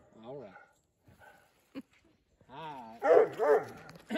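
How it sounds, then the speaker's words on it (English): A coonhound or squirrel hunting dog gives a few bark-like vocal bursts near the end, close and fairly loud, after someone speaks to it in short phrases. "You gonna bark for him, Eeyore?"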